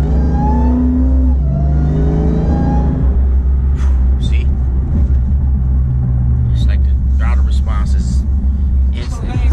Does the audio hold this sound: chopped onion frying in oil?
no